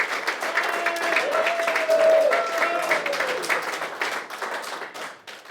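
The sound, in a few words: audience applause for a prize draw winner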